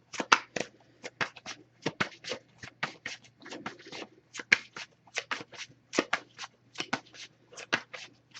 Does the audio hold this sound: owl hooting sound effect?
no